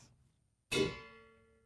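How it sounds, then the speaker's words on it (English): One tap on a cheap, ordinary metal bucket gives a duller clang that rings briefly and decays faster, following a moment of quiet. "So that's the run-of-the-mill bucket sound."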